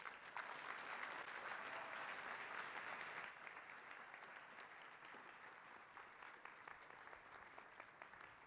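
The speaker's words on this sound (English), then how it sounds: "And now, with warm applause, please let us congratulate Ken Harrow." Steady, moderately distant applause from an audience at an award acceptance ceremony for a distinguished Africanist fills the whole stretch, soft overall and easing slightly midway without any speech.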